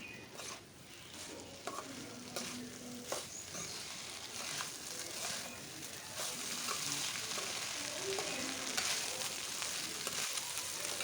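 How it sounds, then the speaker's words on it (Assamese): Chicken pulao ingredients fry and sizzle steadily in a pan while a spoon stirs them gently, with occasional scraping clicks over a continuous hiss throughout. "লাহে লাহে ধুনীয়াকৈ ভাজি ল'ম"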